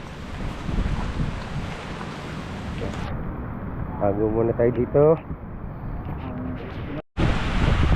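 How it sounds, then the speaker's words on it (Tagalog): Strong wind roars and buffets the microphone along with a steady wash of rain, tossing talisay tree leaves, while someone talks briefly over it; the noise cuts out for a moment near the end. "Grabe ang hangin at saka ulan."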